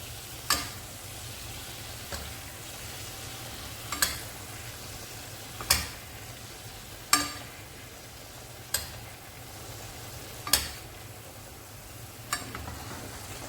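Fillet steak sizzles softly in a pan while being basted, a steady low fry broken by a regular series of sharp spoon taps and clinks against the pan roughly every one to two seconds.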